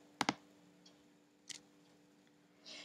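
A few quiet computer mouse clicks, a quick double click followed by single ones, sounding close and isolated against a faint background hum.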